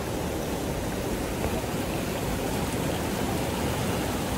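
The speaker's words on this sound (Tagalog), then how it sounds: "Ayan, lakas ng tubig." Strong rushing water at Casaroro waterfall, a loud, continuous roar of falling and churning water that stays steady and fills the whole scene with no voices.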